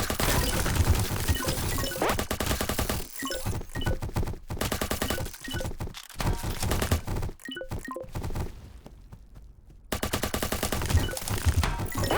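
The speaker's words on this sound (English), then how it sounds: "I love just shooting randomly" Rapid, dense video game gunfire from a top-down roguelike shooter crackles in long loud bursts, with short gaps and a few louder impacts and crashes among the shots.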